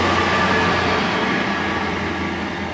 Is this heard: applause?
no